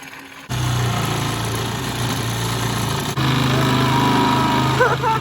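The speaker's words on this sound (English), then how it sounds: "We used the angle grinder a little bit to get it started." Angle grinder cutting a coil spring on an ES1 Honda Civic, a steady loud high-pitched whine that runs almost continuously, with a brief dip partway through and a short squealing note near the end.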